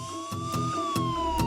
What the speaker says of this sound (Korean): 요란한 빛을 내며 들어서는 구급차.